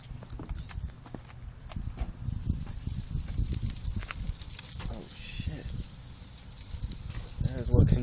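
Bacon sizzling on a Char Griller grill over apple wood smoke, a steady crackling fry with small pops throughout, moderately loud and close, with faint voices in the background.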